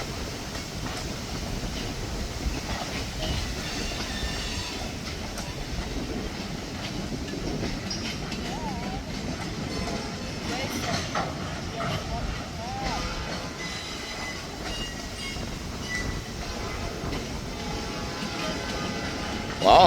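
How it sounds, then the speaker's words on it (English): A long freight train loaded with pulpwood rolls past, a steady loud rumble of wheels and cars throughout with faint clatter. No clear speech rises above it. "they even got pulpwood on this train coming from the south"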